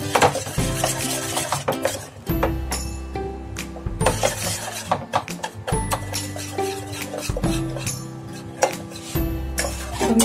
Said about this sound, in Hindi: देखिए हमारा कैरामेल बनना स्टार्ट हो गया है।